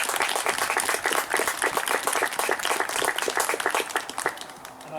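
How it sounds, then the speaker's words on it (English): At a peace memorial event, a crowd gives a warm round of applause to the Churchill Big Local team: loud, close, crisp clapping from many people that thins slightly near the end. "I think it might be appropriate to give them all a big round of applause."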